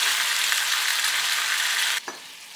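Meat, diced potatoes and three chopped tomatoes sizzle steadily in a pan, a loud continuous frying hiss that stops abruptly near the end, leaving a faint stir clatter.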